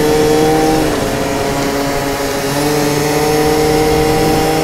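A loud 70cc Yamaha Aerox scooter engine drones and revs continuously up close on a windy day, its pitch shifting slightly as it runs.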